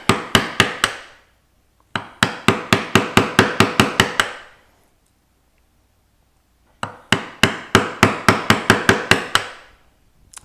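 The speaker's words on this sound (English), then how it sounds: "I'm going to start with my 1/2 inch chisel, or sorry, 3/4 inch chisel. And I just want to start beveling this straight section." A 3/4 inch chisel is struck to bevel the straight section of a hand-carved wooden gothic tracery piece, producing sharp, close knocks in quick rhythmic runs of several blows separated by short pauses.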